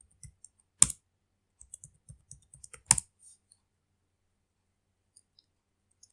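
Sparse keystrokes typing a command on a computer keyboard at a Linux terminal: soft scattered taps, with two sharp louder clicks standing out and long quiet gaps between them.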